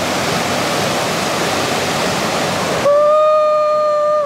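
River rapids in the Cascades rush loudly and steadily for a few seconds, then cut abruptly to a clear sustained electronic tone.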